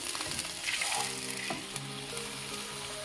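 A splash of water hits hot oil in a pan, setting off a dense, steady sizzle with crackling spits and faint clinks of utensils, close and unvoiced.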